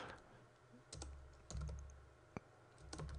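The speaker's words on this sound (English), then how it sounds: "So if I'm typing up here" Keys tapped on a computer keyboard while entering a Google search, a quick run of close, soft clicks and taps in short bursts, with no talk over them.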